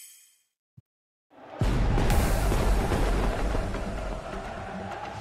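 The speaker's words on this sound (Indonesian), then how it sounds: "Meledak, guys." After a near-silent lead-in with one tiny click, a sudden deep boom erupts in the eFootball video game, then rolls on as a loud, sustained rumbling roar with a hissing wash over it, filling the rest of the moment.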